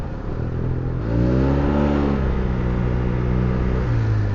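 A Yamaha TMAX 530 DX scooter with a Termignoni exhaust accelerating, a loud, close, continuous engine drone that rises steadily in pitch after a brief lower idle, then levels off and dips slightly at the end.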